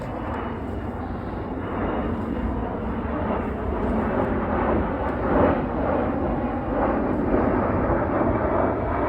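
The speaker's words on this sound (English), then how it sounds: "Just wait for this airplane to go past." A fixed-wing airplane passing overhead near an outdoor beehive site, a steady broad engine roar that holds loud and even throughout without any talk.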